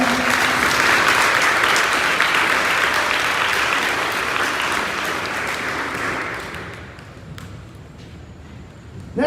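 An audience applauds award winners at a middle school eighth-grade awards ceremony, with sustained broadband clapping that holds steady for about seven seconds and then thins and fades out.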